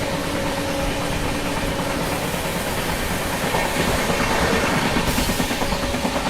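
The Goa Rajdhani Express runs at speed on its rails while overtaking, giving a steady broadband rumble with rhythmic clatter throughout, heard from inside and fairly even in loudness, with no one talking.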